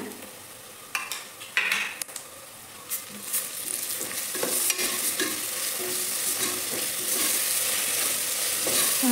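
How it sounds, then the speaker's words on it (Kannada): Ginger-garlic paste hits hot oil with onions for chicken biryani, giving a loud, building sizzle and frying hiss, with stirring scrapes and clatter early on before a steady crackle takes over. "ಇವಾಗ ಬಂದು ನಾವು ಆವಾಗಲೇ ರುಬ್ಬಿಟ್ಕೊಂಡಿದ್ವಲ್ಲ ಶುಂಠಿ ಬೆಳ್ಳುಳ್ಳಿ ಪೇಸ್ಟ್, ಅದನ್ನ ಹಾಕ್ಕೊಳ್ಳೋಣ."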